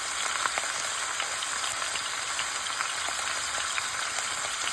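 Pork shoulder sears in a hot pan with its fat left on, giving a steady, close, loud sizzle and crackle with scattered pops throughout.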